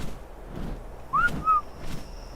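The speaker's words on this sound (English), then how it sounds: "What's the whistle for all follow?" Short two-note whistle command in the video game ARK Survival, a clear rising chirp followed by a brief second tone, standing out over a low ambient background with no talk.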